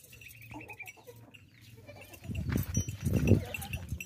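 A healthy, plump young desi goat bleats a few times at close range, the cries growing louder toward the end, while other farm animals sound faintly in the background.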